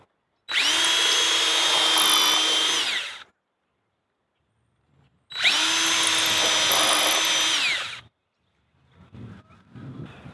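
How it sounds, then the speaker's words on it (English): A power drill pre-drilling holes in a wooden table, two sustained whirring bursts of a few seconds each with a pause between, loud and close, followed by faint handling noises. "So I'm now going to pre-drill some holes."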